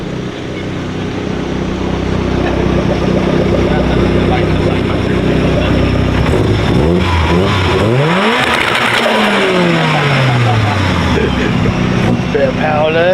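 A car engine revs hard inside an Astra van fitted with a twin Saab engine of over 1000 BHP at a Race Wars UK event. The loud, rising roar sweeps up in pitch and then drops away.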